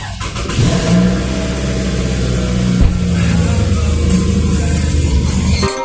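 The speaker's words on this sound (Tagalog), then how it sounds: "O di ba ang lakas ng start ng Camry ko?" A Toyota Camry engine turns over and catches, then settles into a loud, steady idle with a low rumble that briefly dips and resumes.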